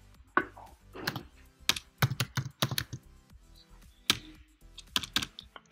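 A search is typed on a computer keyboard, with clear, close, irregular key clacks coming in quick bursts and short pauses, and nothing else audible.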